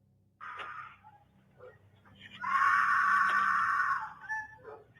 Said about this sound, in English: the disturbing footage of a woman screaming for help was captured from a Ring doorbell's camera